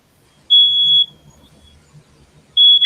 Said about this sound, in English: Oh, smoke smoke alarm.